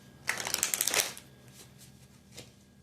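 Tarot cards shuffled by hand, a quick riffling flutter of about a second followed by a few soft card taps, close and clear with no talking.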